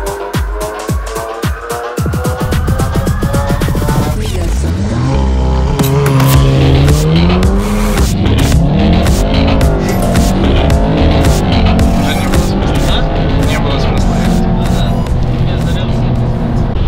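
A Tesla Model 3 Performance with 450 hp races a Golf R and an Audi TTS, engines roaring loudly and tires squealing through sustained hard acceleration, with shifting revving tones and a voice speaking over the din.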